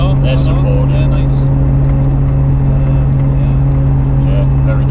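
A 1993 Nissan Skyline R32 GTR cruises at 65 mph, with a steady loud engine drone and road roar heard from inside the cabin while people talk over it.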